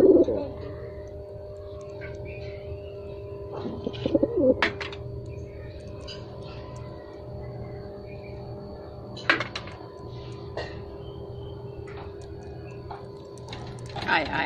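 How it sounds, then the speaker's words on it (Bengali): Several pigeons coo softly in a coop with a two-storey structure, with low repeated calls and a few sharper bird sounds under a steady background hum, while people talk nearby. "এখানে রয়েছে একটা, দুইটা, তিনটা কবুতর"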